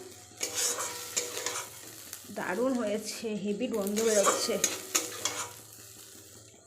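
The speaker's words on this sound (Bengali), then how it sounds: "এই দেখো তেলের ওপরে দিয়ে দিয়েছি চাউমিনটা" Chowmein sizzles and is stirred in hot oil in a home kitchen for an evening snack, a steady frying hiss with scraping spatula strokes, heard close under a speaking voice.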